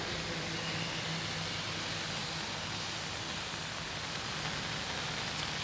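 Steady pre-monsoon rain pours over South Bengal, a dense, even hiss of drops drumming without pause, as if striking an umbrella close by; no voices are heard.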